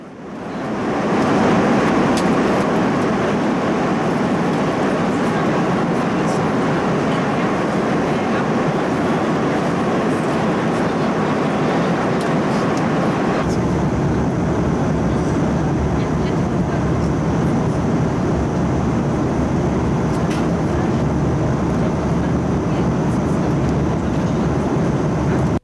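Steady, loud broadband roar inside the cabin of a Sabena airliner at cruising altitude, likely an A340-200 on an oceanic crossing, continuous for the whole stretch with a slight shift in tone partway through and no voices.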